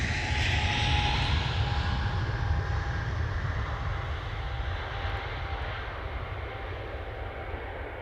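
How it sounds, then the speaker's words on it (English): An EasyJet airliner at Manchester Airport on a Friday evening makes a continuous engine roar, loud at first and easing slightly as it goes on, with no voices present. "another EasyJet"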